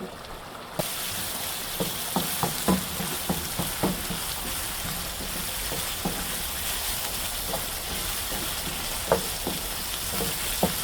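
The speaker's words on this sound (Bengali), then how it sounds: "এটা যখন তেল ছেড়ে দিবে ততক্ষণ পর্যন্ত আমি এটা চুলার উপরে রেখে নাড়বো কিছুক্ষণ পর।" Chana dal frying in oil on a stove gives a continuous close sizzle, broken by regular scraping stir strokes against the pan.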